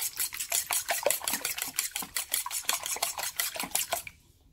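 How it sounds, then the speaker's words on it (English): Eggs, milk and crumbled eggshells are mixed in a bowl, a quick steady clatter of utensil scraping and tapping against the bowl in rapid rhythmic strokes, close and fairly faint, ending in quiet. "you crumble up some eggshells and you mix it all up"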